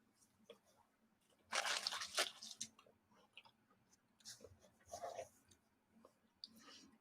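Someone chews a crunchy iced lemon snack close to the mic, with a loud burst of crunching bites followed by quieter, intermittent chewing and crackles.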